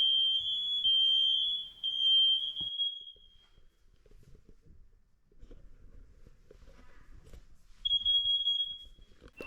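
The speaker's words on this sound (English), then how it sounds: "press and hold the test silence button. All interconnected alarms should sound." A loud, piercing electronic alarm tone from a First Alert interconnected smoke alarm being tested sounds steadily for a few seconds, stops, then resumes near the end after a stretch of quiet rustling.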